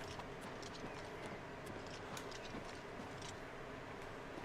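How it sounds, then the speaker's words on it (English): Horse hooves clip-clop in the open world of Oblivion Remastered, a steady, faint trot running under continuous ambient game noise with light clicky transients throughout. "there's horses over there"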